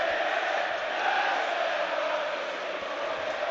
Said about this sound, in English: You can hear them singing, United are the team for me. That's the United crowd.